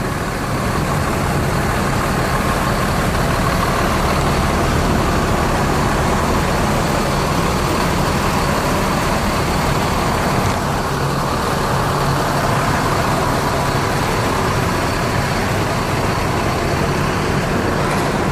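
ANS intercity bus leaving Jakarta from Kampung Rambutan terminal, heard as a continuous broad rumble of road traffic and engines with no speech.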